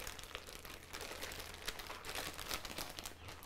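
A plastic bag holding a whole chicken and char siu marinade crinkles softly as it is handled, giving faint, continuous rustling and crackling close up, with no talking.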